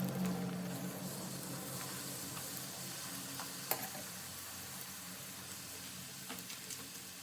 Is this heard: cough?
no